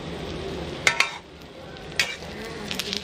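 Cha-om omelette frying in hot oil over raised heat, a steady soft sizzle with a few sharp clinks of a utensil against the pan, close and moderately loud.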